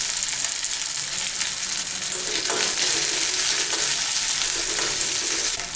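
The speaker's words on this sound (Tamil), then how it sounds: "வெங்காயம் பூண்டு மிளகாயெல்லாம் வதக்கிடுச்சுங்க பாதி." Shallots, garlic, green chilies and dried red chilies sauté in hot oil for curry leaf chutney, a steady close sizzle with occasional stirring scrapes throughout.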